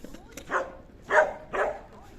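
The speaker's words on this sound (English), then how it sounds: "He's a very, very nice dog indeed." A dog in Paphos harbour town, Cyprus, barking three times in a sparse, evenly spaced sequence, moderately close against faint outdoor background.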